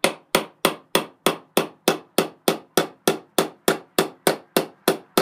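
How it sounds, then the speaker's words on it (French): A hammer drives a nail into a wooden box with about eighteen sharp, evenly spaced blows, loud and close with no talking. "c'est assez facile à clouer, juste mettre le clou bien droit, c'est mieux"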